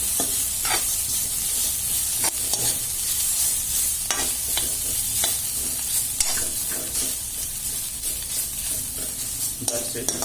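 Bitter gourd frying in a pan while being stirred, a steady loud sizzle with repeated scraping and tapping strokes of a spatula at irregular intervals, close up with no talk.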